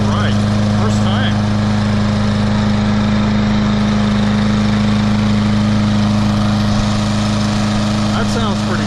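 A Troy-Bilt TB200 lawn mower with a 625EX Series engine runs steadily and loudly close by after starting, a constant droning hum with no breaks.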